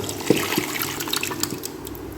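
Mashed dal poured into boiling tamarind water for sambar, giving soft wet plops and liquid splashing, close and steady for a couple of seconds.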